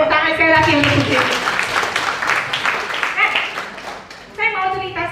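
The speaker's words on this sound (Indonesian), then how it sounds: "Kita berikan tepuk tangan sekali lagi untuk Jenny" An audience at a health seminar in Malang applauds for Jenny, a burst of many hands clapping that swells and fades between stretches of a speaker's amplified voice talking before and after.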